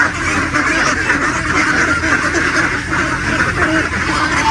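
Ducks quack steadily and densely on a Philippine duck farm, a crowded flock filling the whole stretch with continuous overlapping calls, loud and close, with no talk.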